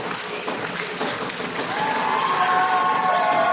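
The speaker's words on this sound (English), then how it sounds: "the Viking clap goes around the stadium" A stadium crowd at the ACT versus New South Wales men's open championship claps together in a broad, continuous wash that swells louder toward the end, joined late by a sustained tonal horn-like note.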